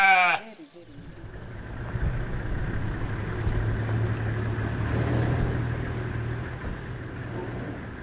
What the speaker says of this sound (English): After all these years of crossbreeding of local goats with the bucks of the German alpine goat, a new race has finally emerged.